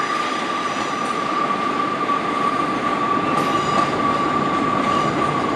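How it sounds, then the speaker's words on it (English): A ScotRail Class 158 diesel train bound for Edinburgh at Glasgow Central station, giving a steady rumbling drone with a sustained high whine or squeal over it, close by and continuous. "This one is a Class 158 going to Edinburgh."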